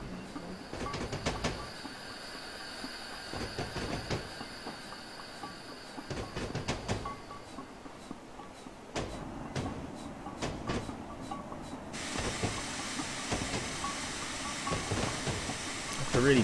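Black 5 steam locomotive in the Train Simulator game, winter running on the North Norfolk Railway up a steep gradient: continuous rail rumble with rhythmic clanking and clicks, a brighter hiss rising toward the end, under occasional talk.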